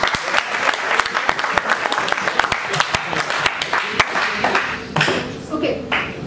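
A classroom of students clapping during a lesson, with sharp, distinct claps in an uneven rhythm that thin out near the end, where a faint voice is heard.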